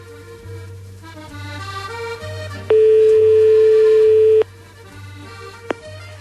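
A phone call rings through to the public call box on the Eiffel Tower: one long, steady, loud tone in the middle, rising above a constant low hum and faint background tones.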